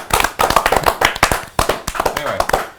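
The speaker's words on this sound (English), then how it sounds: "should we say another final round of applause?" Round of applause during a live-streamed developer Q&A, a brief burst of quick sharp claps at close range, dense and uneven for a few seconds.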